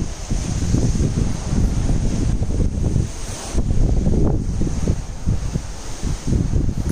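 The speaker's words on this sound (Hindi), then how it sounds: "मैं आपको आवाज़ भी सुनाती हूँ सी की लहरों की," Sea waves wash steadily below a cruise ship balcony, a loud continuous rushing surf mixed with heavy wind buffeting the microphone, with no voices.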